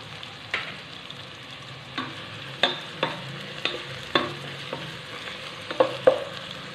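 Onions frying in a pan for chicken biryani, a steady low sizzle broken by about a dozen sharp scraping knocks of a spoon stirring against the pan, with no talking.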